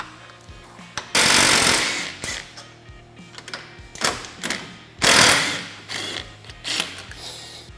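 Power-tool bursts from removing the castle nut and brake caliper bolts on a Honda Talon 1000R, two long loud rattling runs with shorter clunks and thuds between them, close up and free of talk.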